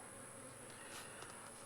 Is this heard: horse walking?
no